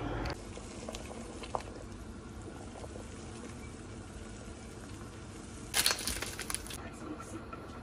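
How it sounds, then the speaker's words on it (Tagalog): Water boiling in a pot for pasta, a steady low bubbling roar heard fairly faint and close, with a brief louder clatter near the end. "3 oras ng pakulo ng tubig."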